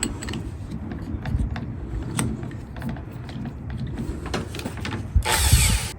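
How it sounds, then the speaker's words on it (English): A power drill with a 1/2 inch bit countersinks holes in wood for a sled, whirring steadily in short bursts with a louder, harsher spell near the end. "Now we're going to flip each of these over and countersink a little bit."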